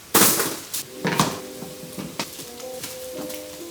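Aluminum foil pulled from a roll and torn, a loud crinkling rip at the start followed by softer rustles and crackles, close by, with a faint tonal hum beneath.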